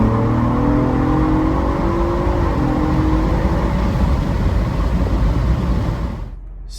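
A Ford Bronco Raptor fitted with an S&B cold air intake, engine revving loudly and steadily with a rising whine, heard from inside the cabin with the windows down, then dropping away sharply at the end.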